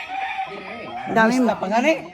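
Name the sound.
chickens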